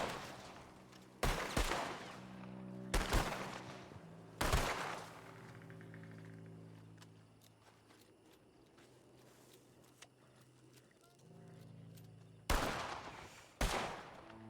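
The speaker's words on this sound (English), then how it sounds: "Put some bullets by his feet." Loud gunshots go off in RedM, a Wild West roleplay game, as bullets are fired at a man's feet. Sharp single shots come in a ragged pattern, a few close together, with quieter gaps and faint movement sounds between them.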